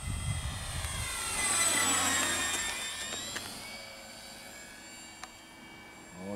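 A Durafly T-28 Trojan USMC 1100mm RC plane on its maiden flight in windy conditions, its electric motor whining steadily overhead as it swells closer and then slowly fades, with no talking.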